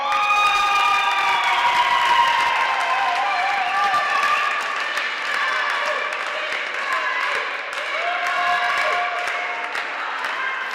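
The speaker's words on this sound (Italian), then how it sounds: "Ancora un forte applauso per il Dream 5." An indoor audience applauds and cheers for the women's futsal team Dream Five after a match against Futsal Cornedo, sustained clapping with high shouting voices layered over it, gradually thinning toward the end.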